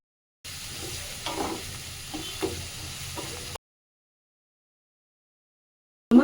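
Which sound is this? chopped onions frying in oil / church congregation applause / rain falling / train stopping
chopped onions frying in oil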